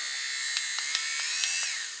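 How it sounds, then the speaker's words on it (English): A battery-powered electric lint shaver runs with a steady high-pitched whirring hum, broken by several brief scratchy clicks as the blades catch, heard close up with no talk. "This is a lint shaver."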